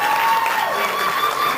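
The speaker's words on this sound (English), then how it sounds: "How about a round of applause for our candidates?" A crowd applauds steadily, a dense wash of clapping hands at moderate loudness with no pauses.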